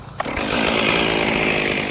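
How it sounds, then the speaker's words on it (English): A chainsaw roars steadily at an old woodyard in eastern Goochland County on a spring morning, loud and close, cutting in right after a brief moment of quiet and holding a constant whine. "masked by the roar of a chainsaw"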